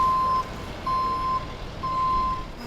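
A tow truck reverses on a flooded street, its backup alarm giving three evenly spaced, steady beeps close by, with a low engine rumble underneath and no talking.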